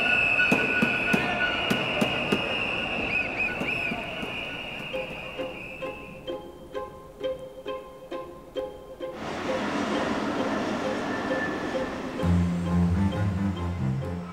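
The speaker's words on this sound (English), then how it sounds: "we are also used to the noise of the trains" Trains at a busy Zurich railway station: rolling wheels clatter with rhythmic clicks, a long high squeal fades out midway, then a louder rumble of rail traffic builds, with faint voices underneath.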